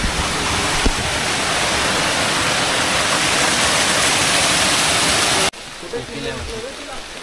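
A waterfall on a forest trek to Tandulwadi Fort in Palghar district, with streams nearby, gives a loud, steady rushing roar. It cuts off abruptly near the end, leaving a quieter background with faint voices.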